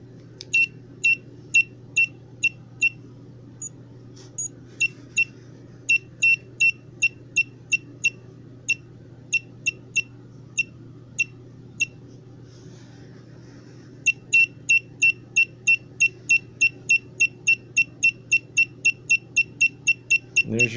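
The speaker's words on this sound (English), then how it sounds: "if you put the metal detector up on the pulse motor" A metal detector beeping as the aluminum plates of a spinning pulse motor pass its coil, sharp regular high-pitched bleeps in steady rhythmic runs with a brief gap, over a low constant hum.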